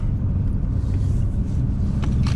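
Deep, steady rumble of a 2020 Nissan GT-R 50th Anniversary Edition's 3.8-litre six-cylinder engine heard from inside the moving car, loud and constant with road noise blended in throughout.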